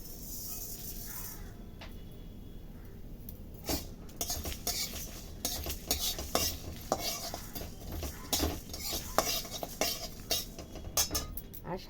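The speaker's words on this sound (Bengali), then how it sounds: "এর মধ্যে আমি দেব জিরে" Cumin seeds dropped into a hot pan for bhuna khichuri, setting off a crackling sizzle with repeated metal spoon scrapes and clinks against the pan, close and steady for several seconds.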